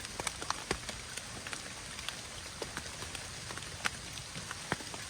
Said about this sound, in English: just listen to the rain hit the tarp or hit the tent